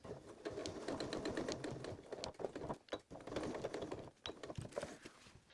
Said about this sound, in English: And then stitch right up to that line, back stitching at the end.